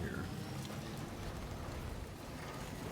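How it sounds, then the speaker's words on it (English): Steady rain falls in the video game Death Stranding 2, a dense even patter with a low rumbling wash underneath, continuous and fairly loud throughout with no talk over it. "My vehicle's rusted up from this rain"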